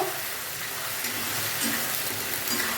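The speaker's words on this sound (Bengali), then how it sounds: "দিয়ে আমি সমস্ত মশলাগুলো ভাজবো" Red chilli paste and spices fry in a pan with a dense, steady sizzle and crackle, loud and close, with no voices over it.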